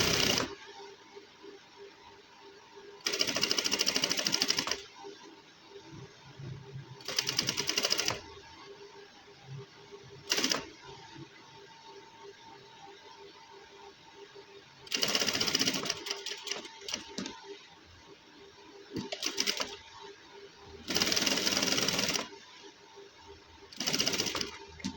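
A sewing machine stitching a pocket onto a gents suit runs in about seven short bursts of rapid whirring, separated by quiet pauses, loud and close.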